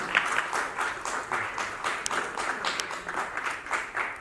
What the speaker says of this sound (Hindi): एक बार सबके लिए जोरदार तालियां होनी चाहिए।